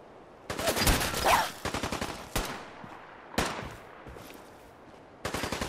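Gunfire in Fallout 4, sharp bursts of rapid shots in several separate volleys with short quiet gaps between, loud and close.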